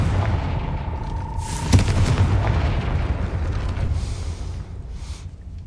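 A Confringo spell explosion in the Hogwarts Legacy video game: one sharp boom bursts out partway through, then a rumbling, crackling tail over steady background ambience.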